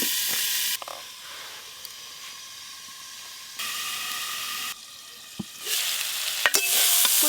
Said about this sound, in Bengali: ফুলকপিগুলো কিন্তু ভাজা ভাজা হয়ে এসছে।